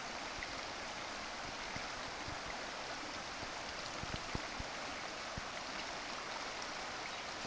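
A low river near Canvastown flowing steadily, an even broadband wash of running water at moderate distance with faint scattered ticks and no talking.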